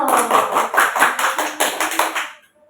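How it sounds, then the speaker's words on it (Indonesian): A small group in a school group-guidance session claps hands together in a steady burst for a couple of seconds, then the applause quickly fades to silence. "Tepuk tangan dulu."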